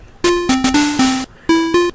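Square-wave 8-bit chiptune tones built in Audacity, a short run of buzzy, harmonic-rich synthetic notes stepping between pitches in a choppy rhythm, loud and alone with brief gaps between phrases.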